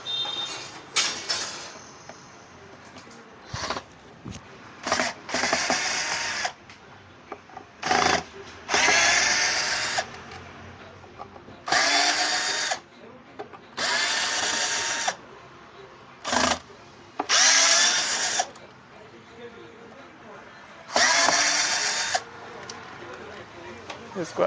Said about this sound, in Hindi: अभी हम पीछे का इसका स्क्रू खोलेंगे।